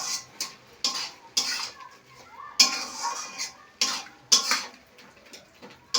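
A spoon stirs sugar into grated carrot in a glass bowl for carrot barfi, giving repeated sharp clinks and scrapes against the glass in an uneven rhythm with quiet gaps, close and clear.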